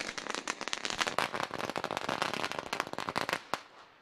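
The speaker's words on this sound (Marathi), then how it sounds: "अगदी फटाक्यांच्या आतिषबाजीनं पाहुण्यांचा या ठिकाणी स्वागत करण्यात आलं" Firecrackers set off to welcome guests at a village cricket tournament match: a dense, rapid string of loud crackling bursts and pops that runs for several seconds, then stops with one final bang.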